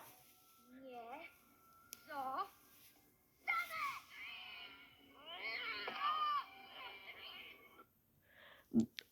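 A cat from the animated film Coraline yowls and meows in several rising, strained cries during a fight scene, with a short sharp hiss or screech near the end and a voice talking between the cries.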